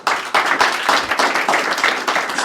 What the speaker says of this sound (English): give him a round of applause to get started